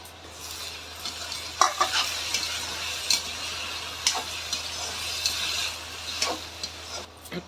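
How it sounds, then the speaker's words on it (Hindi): Tomatoes cooking in a pan for a Chhattisgarhi-style yam (jimikand) dish, with a soft steady sizzle broken by repeated scraping and clinking stirring strokes, quiet and close. "तब तक पकाएंगे जब तक टमाटर अच्छे से पक ना जाए"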